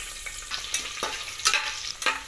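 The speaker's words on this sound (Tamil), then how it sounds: "இப்போ நறுக்கி வச்சுருக்க ஆனியனை சேர்த்துடலாம்." Chopped onions hit hot ghee and oil with whole spices for a mushroom biryani, a close, steady sizzle broken by regular scraping stirs.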